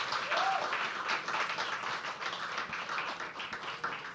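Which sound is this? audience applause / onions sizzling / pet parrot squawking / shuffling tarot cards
audience applause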